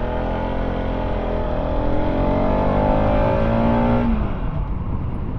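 A Bajaj Pulsar RS200 motorcycle engine idles and runs steadily up close after a full service and wash, a continuous loud mechanical drone with a brief rise in pitch before settling.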